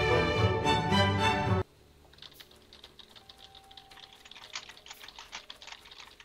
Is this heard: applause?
no